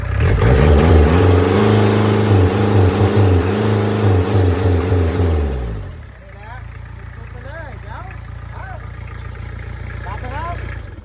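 A Kubota V1405 four-cylinder 30 hp diesel engine revs loudly for several seconds, its pitch rising and falling before it drops back to a lower idle while someone talks over it.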